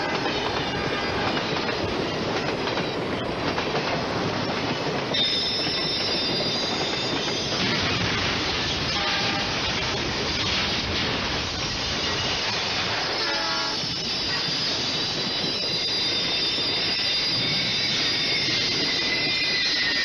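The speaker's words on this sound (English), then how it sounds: "I also did hear the sound of a train, and I did hear him blow his whistle" A train rumbles past steadily with squealing wheels and clattering cars, and a whistle sounds partway through, loud and close throughout.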